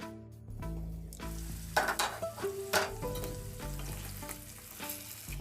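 Pieces of pork with red chilli fry gently in a pan over a low gas flame, giving a continuous soft sizzle with scattered crackles and a few stirring scrapes, under a steady tonal background.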